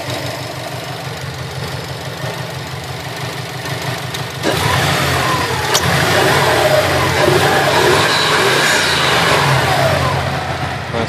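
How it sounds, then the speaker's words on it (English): A 1999 Subaru Legacy GT-B with a twin-turbo boxer engine idling with a lumpy, pulsing rhythm, then revving up loudly close by and holding a raised roar. "It revs pretty nicely."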